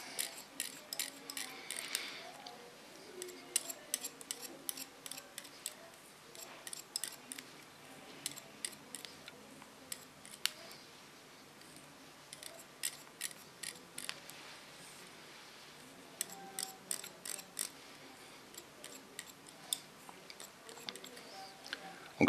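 Scissors snip hair during a pixie cut, making rapid bursts of crisp, close metallic clicks in irregular clusters, with quiet pauses between them.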